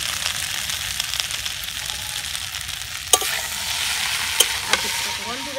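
A flatbread snack being stirred and mixed with chili sauce, tomato sauce and chopped coriander in a hot pan, giving a steady close sizzle throughout with a few sharp utensil knocks near the end.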